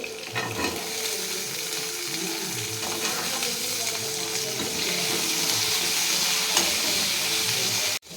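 Onions, garlic, ginger and green chilli sautéing in oil for a chicken gravy, a steady close sizzle with soft stirring scrapes throughout, cutting off abruptly at the end.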